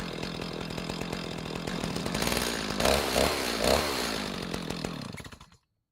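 Chainsaw in a tree cutting simulator game, loud buzzing and revving at a steady high pitch, then winding down and cutting off to silence near the end.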